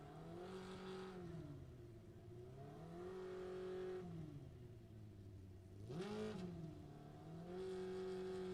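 A junior comp drag racing car's engine drones and rises and falls in pitch as it revs and runs, heard faintly from a distance with no voices.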